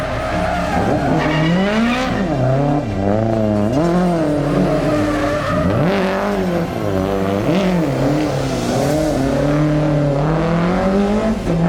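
Historic rally cars at the Tour de Corse slide through a stage, their engines loudly revving and shifting pitch over the whole stretch, with skidding and tire squeal mixed in and no talk.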